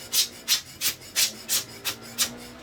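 A camera lens focus ring twisted back and forth during lens cleaning, giving seven evenly spaced, soft raspy rubbing strokes, close and quiet, with no voices.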